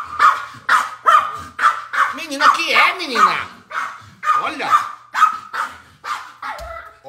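A small dog barks repeatedly in a quick, irregular series of yips, loud and close, while someone talks over and between the barks.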